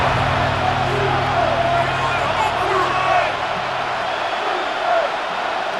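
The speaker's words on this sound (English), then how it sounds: "The crowd making their presence felt." Stadium crowd noise in the Madden NFL 26 video game, All-Time Saints against All-Time Seahawks, a steady roar of fans with swells of cheering. It plays loud and continuous, with a hum early on.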